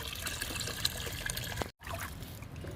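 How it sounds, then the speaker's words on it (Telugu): Aloe vera liquid trickles and splashes as it is poured into a small bucket, a close, continuous dribbling stream that breaks off briefly before starting again. "ఈ చిన్న బకెట్లో పోసుకొని తీసుకెళ్దాము మొక్కల దగ్గరికి"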